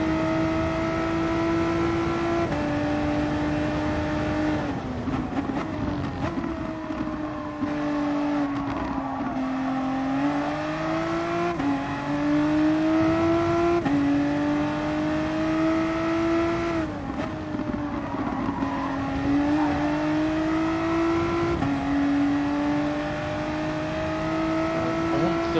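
A race car engine drones and shifts pitch while driving the Kyoto track in a racing video game, steady and loud with gear changes and throttle lifts, slowing then pulling again.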